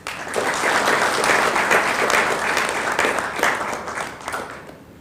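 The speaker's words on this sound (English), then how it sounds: "I think Mr. Etienne deserves a clap." At a gala dinner, a roomful of guests gives a steady, dense round of applause that holds for several seconds, then thins and fades toward the end.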